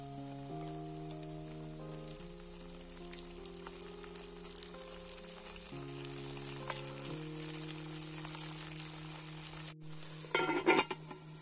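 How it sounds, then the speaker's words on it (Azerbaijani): Fish frying with onion, turmeric and pomegranate seeds in a lidded pan gives a steady, soft sizzle under gentle background music, with a brief clatter near the end. "Soğan biraz qovrulduqdan sonra hissələri yenidən düzüb, nar dənələrini əlavə edib qapağını örtürəm."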